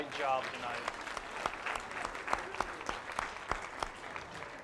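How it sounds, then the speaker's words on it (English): A town hall audience in an elementary school applauds themselves after an evening session, scattered, distinct claps of moderate loudness, with a voice briefly speaking at the start. "I want you to all give yourselves a round of applause for a great job tonight"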